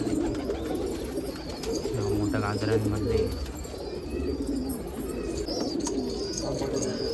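Pigeons cooing steadily among the birds at a Nashik pigeon festival, a continuous close murmur of coos and soft calls running under someone talking.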